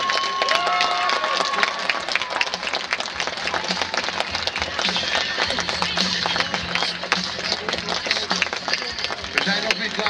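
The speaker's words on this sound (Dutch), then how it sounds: "Nog één applaus." Dense, sustained audience applause fills the room without a break, with many overlapping hand claps going on for about ten seconds at a steady loud level.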